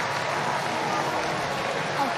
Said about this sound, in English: the applause from the stands